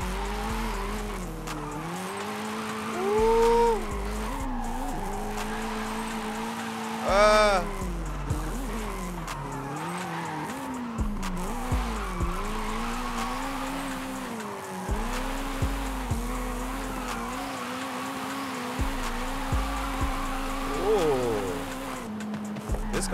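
Nissan Silvia S-chassis car drifting in Forza Horizon 5, a revving engine rising and falling with long tire squeals through repeated slides, close and continuous, with someone talking over it.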